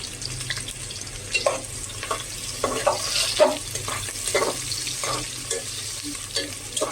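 Chopped onions frying in hot oil in a pan, browning slowly, with a steady close sizzle and repeated scraping stirs at an uneven rhythm, no voices.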